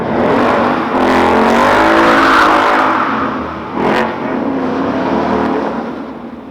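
A Ford Mustang fitted with a Roush exhaust revs loudly and close, holding a sustained roaring engine note, easing off briefly near the middle, then climbing again in a sharp rev before settling back down.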